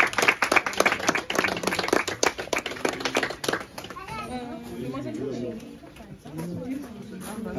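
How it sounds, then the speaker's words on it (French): Wedding guests clap in brisk, sharp bursts for several seconds; then the clapping thins out as voices, including children's, take over. "Applaudissez, applaudissez."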